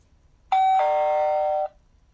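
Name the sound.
Lorex 2K QHD video doorbell artificial button-press noise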